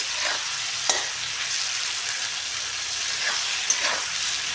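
Food sizzles steadily in a frying pan while a utensil stirs it, with a few sharp scraping clacks against the pan over the continuous hiss; no one speaks.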